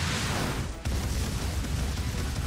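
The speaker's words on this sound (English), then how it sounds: "Explosion from the bottom." A big explosion in the video game Monster Hunter Stories 2 erupts from below, giving a loud, sustained roaring blast of rumble with a short break partway through.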